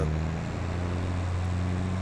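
A tractor engine in a farming game drones steadily at a low, even pitch, a constant mechanical hum with no talking over it.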